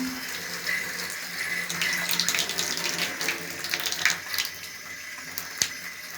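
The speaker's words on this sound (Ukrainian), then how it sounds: "Пішла вода." Water gushes from a newly installed bathroom mixer tap, a steady rushing stream with splashy bursts and a few clicks and knocks, fairly close and with no talking.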